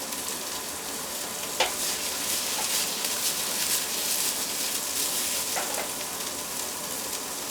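Peppers sautéing in a hot pan give off a steady, close sizzle and crackle that holds throughout, with a few sharper pops rising above the hiss.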